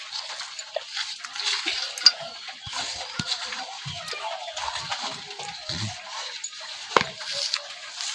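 Lentil batter with chopped onion, ground cumin, green chilli, sugar and salt for dal bora is mixed by hand or spoon in a bowl: soft, wet squelching and stirring with scattered light clinks, steady and close, with no talk.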